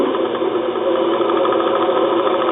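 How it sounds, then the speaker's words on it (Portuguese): Sewing machine motor driving the belt of a Van de Graaff generator, a steady close mechanical whir with a continuous even hum and no voices. "Esse é um motor de máquina de costura"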